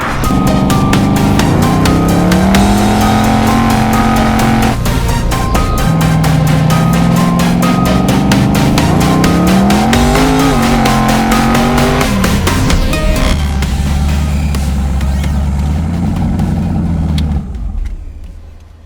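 A twin-turbo Trans Am street car accelerates hard, its engine roaring loudly and steadily close by, with rising and falling pitch through the gears over about seventeen seconds before the sound drops off abruptly.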